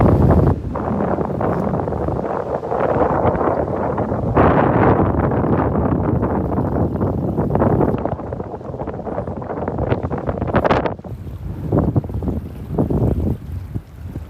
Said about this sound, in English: The wind is ferocious right here.